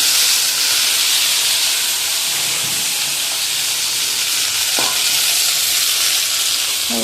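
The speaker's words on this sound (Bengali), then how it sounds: "পটলগুলো ভাজা হয়ে গেলে" Pointed gourd pieces fry in hot oil in a pan, giving a loud, steady close-up sizzle and hiss with a few faint clinks of stirring.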